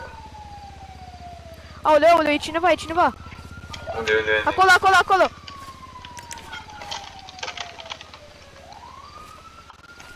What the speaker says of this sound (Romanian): nu-mi plac sirenele astea